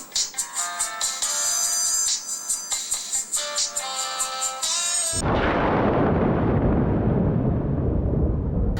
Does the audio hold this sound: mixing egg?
no